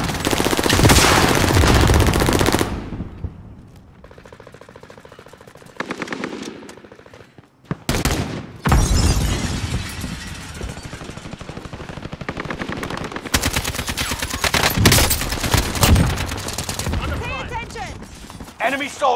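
Sustained machine gun fire in Call of Duty: Warzone, loud rattling automatic bursts that run almost continuously with a brief break midway, mixed with shouted voices and battle noise.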